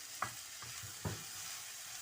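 Ingredients for a crunchy bread burger fry in a pan with a faint, steady sizzle, and three soft stirring knocks land early in the stretch.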